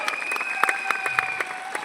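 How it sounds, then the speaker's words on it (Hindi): Audience applause at a temple gathering, a steady crackle of many hands clapping with some sharper individual claps, fairly close and moderately loud, with a voice faintly under it. "तो एक बार जोरदार तालियां इन सब के लिए होनी चाहिए।"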